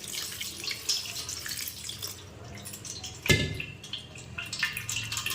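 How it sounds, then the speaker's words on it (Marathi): Cold water pours and splashes steadily over cooked ambadi (roselle) greens, with a louder splash partway through and dripping sounds around it, close by. "आता या भाजीवरती आपल्याला थंड पाणी ओतून घ्यायचं आहे"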